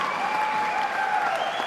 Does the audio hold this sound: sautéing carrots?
no